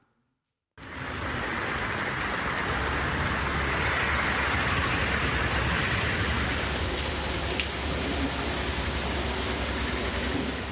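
Heavy monsoon rain falls steadily across north India, a dense continuous roar of downpour with low traffic rumble beneath, loud and unbroken after a brief silent start.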